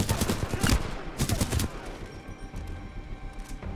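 Rapid bursts of gunfire from the video game Titanfall 2, loud and dense at the start, then continuing more faintly as a steady rattle of distant shots, with no talking.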